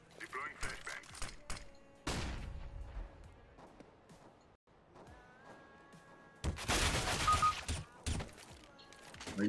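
Gunfire from a spray of automatic shots in the video game Counter-Strike: Global Offensive, with sharp bursts of shots near the start and a dense, loud volley later, mixed with game effects.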